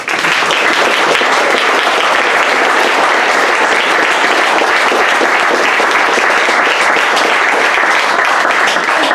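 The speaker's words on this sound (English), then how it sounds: "I think we should give her a round of applause" A room of guests at an athletics club awards evening breaks into loud, sustained applause, dense clapping from many hands continuing evenly for about nine seconds.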